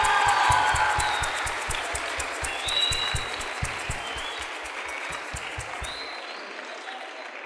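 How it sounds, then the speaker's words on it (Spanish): Applause from a school audience at an acoustic vocational concert, a dense wash of clapping with rhythmic low thumps underneath, gradually thinning and cutting off near the end. "Fuerte aplauso,"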